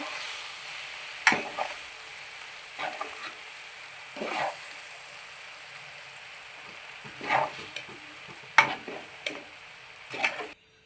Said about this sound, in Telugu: అన్నీ బాగా కలిసినట్టు మిక్స్ చేసుకోవాలి.